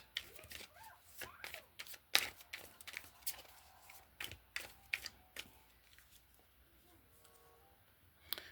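A deck of tarot cards is shuffled close by, the faint riffling producing a quick run of soft papery clicks and taps that thin out toward the end, with no talk over it.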